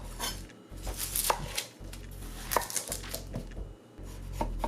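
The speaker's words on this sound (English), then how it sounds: "I'm going to go ahead and mince up a 1/4 of an onion" A knife mincing a quarter onion on a board makes quick, uneven bursts of close chopping taps separated by short pauses, with no talk.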